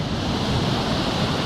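Rushing water of the Teberda, a mountain river, fills the scene as a steady, close broadband roar with no pauses, like surf or a waterfall, heard alone without talk.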